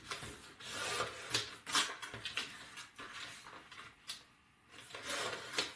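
Craft paper strip being cut by hand, with soft scratchy rubbing and rasping strokes in an uneven rhythm, close and quiet, pausing briefly before resuming.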